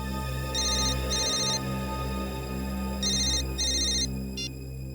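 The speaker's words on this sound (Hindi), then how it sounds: "सर, मोबाइल कंपनी वालों का फोन था।" A mobile phone ringtone sounds during a Hindi crime-drama scene, playing two pairs of bright electronic bursts over a steady low hum before a short final blip.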